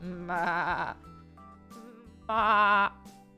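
Goat bleating twice in loud wavering cries about two seconds apart, with quieter tones and faint sounds between them.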